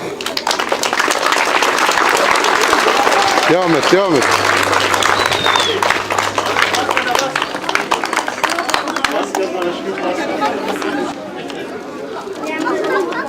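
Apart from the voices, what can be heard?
audience applause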